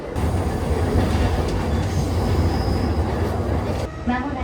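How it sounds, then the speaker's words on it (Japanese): Inside a Chuo Line rapid train heading toward Tokyo, a loud, continuous rail rumble with rattling wheel and carriage noise carries on, easing briefly near the end. "この列車は中央線快速東京行きです。"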